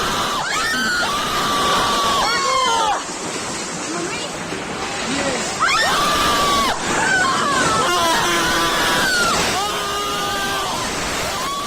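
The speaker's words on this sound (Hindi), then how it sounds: "तो आपने सुनी लोगों की चीख पुकार।" Panicked screams and shouts from a crowd during the Himachal Pradesh landslide disaster near Shimla, where a cloudburst struck amid heavy rain. Repeated high, wailing cries run over a constant roar of rushing water.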